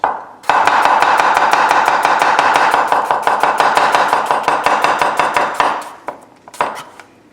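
A knife slices cucumber in a fast, even run of sharp chops on a cutting board, loud and close, slowing to a few scattered cuts at the end.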